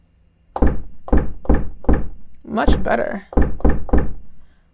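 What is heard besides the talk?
drum machine beat through low-pass filter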